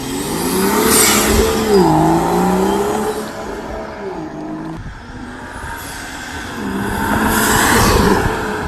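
A car engine fitted with a cold air intake revs up and down several times, loud and close, with a throaty intake roar rising and falling between revs.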